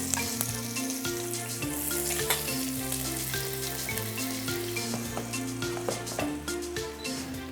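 Onions, garlic and ginger frying in a hot pan of sunflower oil and butter, a loud steady sizzle with stirring and scraping sounds, close and without talk.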